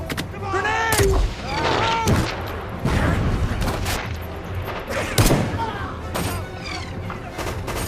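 Heavy gunfire and a grenade explosion in an American action film battle, with dense bursts of shots and booming impacts, loud and close, while voices shout over the fighting.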